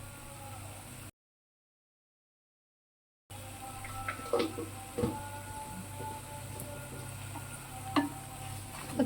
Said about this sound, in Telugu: ఇలా ఫ్రై అయ్యేంత వరకు మనం చాలా దగ్గరకు వచ్చేంత వరకు ఫ్రై చేసుకుంటూ ఉండాలన్నమాట